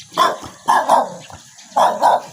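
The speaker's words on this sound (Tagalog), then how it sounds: "Nagalit yung aso." A dog barks in three loud bursts, each a quick double bark, with short pauses between them, fairly close by.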